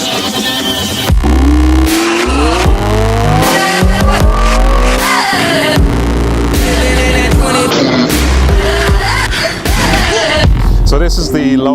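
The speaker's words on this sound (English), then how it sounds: "So this is the Lotus Exige that we have been out on the runway so far in today" A Lotus Exige sports car races down an airport runway in Ireland, its engine revving hard through loud, rising and falling gear changes with brief tire squeal, close and continuous throughout.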